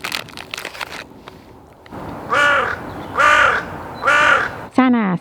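A crow caws three times in a steady, evenly spaced series, loud and fairly close, on a mountain biking outing, with a fourth harsher call cut off at the end after some earlier rustling.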